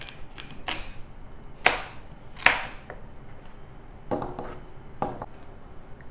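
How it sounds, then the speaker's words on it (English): A knife chops carrots on a cutting board in a few sharp, separate strikes spaced irregularly over a low background, close and clear, with no talking. "cut up our carrots"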